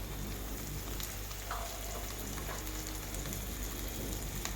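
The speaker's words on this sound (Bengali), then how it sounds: "এখন পেঁয়াজ কুচি আর রসুন কুচি হালকা করে ভেজে নিচ্ছি।" Chopped onion, garlic and potato pieces fry in hot oil for vegetable khichuri, giving a steady, dense sizzle that runs continuously throughout with no voices.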